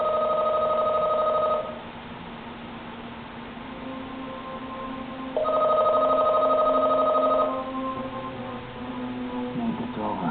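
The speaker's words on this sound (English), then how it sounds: "your phone will ring" A telephone rings in repeated bursts with a pause between them, steady and fairly loud indoors, a low hum and faint background murmur continuing beneath and between the rings.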